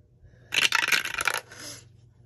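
A twelve-sided die is rolled onto a hard surface, rattling and clattering in a quick burst of hits before a softer final skitter as it settles, close and alone.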